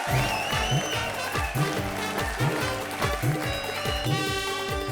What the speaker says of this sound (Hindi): जोरदार तालियां आरती और वीआईपी के लिए.